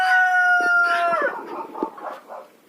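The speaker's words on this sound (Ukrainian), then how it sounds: "Заходьте, мої курочки, заходьте." A rooster's drawn-out crow trails off into several short clucks from nearby chickens, loud and close, no voices.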